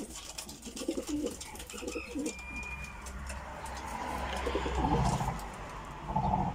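Pigeons coo repeatedly in a loft, their soft rolling calls layered over steady background noise, fairly close and continuous with some overlapping birds.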